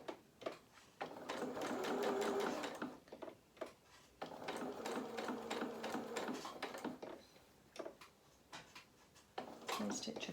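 A sewing machine stitches a small fabric toy ear, pivoting around the point, in a quiet close whirring with steady runs broken by short stops and restarts.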